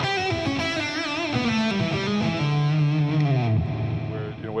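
Electric guitar played by Paul Gilbert through a TC Electronic HOF Mini reverb pedal, with sustained, distorted lead notes and bends that ring out with reverb tails, close and fairly loud, no talking.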